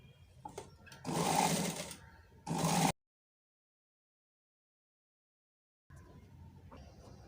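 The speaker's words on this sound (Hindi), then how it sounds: "अब ये इस पे यहाँ से यहाँ पर सीधी तरफ से यूँ एक सिलाई दे देंगे" Domestic sewing machine running two quick bursts of stitching along a seam on an angrakha A-line frock, close and fairly loud, then silence before faint handling noise resumes.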